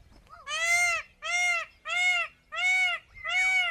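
Goats bleat on a farm in New Zealand, giving five fairly loud, evenly paced nasal calls in a row, each with a slight rise and fall in pitch.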